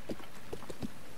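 Horse hooves clip-clop in The Legend of Zelda: Breath of the Wild, a few soft, uneven hoofbeats close by with no talk.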